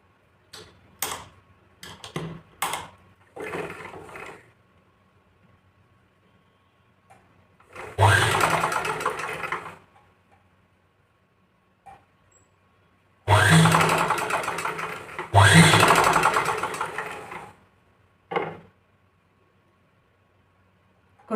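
A sewing machine stitches a blouse cross strip with a half-inch seam allowance in long whirring bursts, separated by quiet pauses and a few short clicks and ticks.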